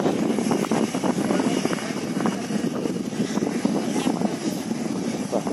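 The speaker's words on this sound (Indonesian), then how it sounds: "Jadi ini jet pribadi loh ya" A private jet owned by the Gudang Garam boss in Kediri gives off a continuous broadband engine roar that stays loud and steady, with faint voices underneath.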